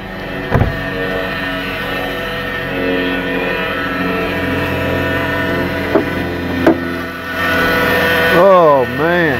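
A car engine idles with a steady whining tone running over it, suspected as a transmission whine, loud and close; a few short clunks occur and the pitch sweeps up and down near the end.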